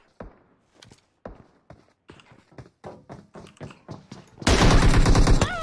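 M4 rifle fire in a video game, starting with spaced single footstep-like taps and shots that quicken, then a loud sustained burst of automatic fire near the end.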